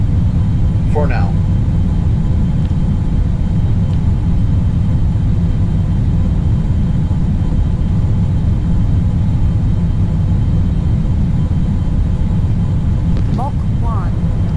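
The XR2 spacecraft's engines roar at full power in the Orbiter Space Sim game, a loud, steady low rumble and whir sustained throughout with no pause.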